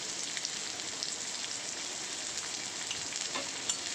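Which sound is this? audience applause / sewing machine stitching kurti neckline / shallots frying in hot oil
shallots frying in hot oil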